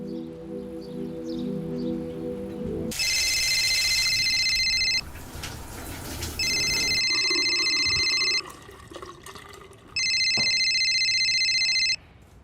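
A telephone rings in repeated electronic bursts, loud and close, two-tone trills separated by short pauses, over a low background hum.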